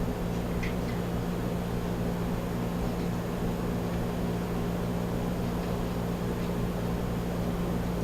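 Breaded tofu fries in a pan with a steady, even sizzle that holds at a constant level the whole time, over a low background hum.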